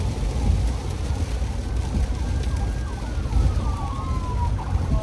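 An ambulance siren wails with rising and falling tones over steady traffic and road noise, heard from a road vehicle, moderately distant and gradually growing clearer.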